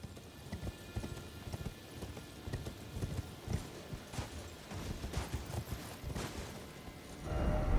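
A horse gallops in Elden Ring: Shadow of the Erdtree, its hooves beating a quick, steady clip-clop rhythm close by, with a louder rushing swell near the end.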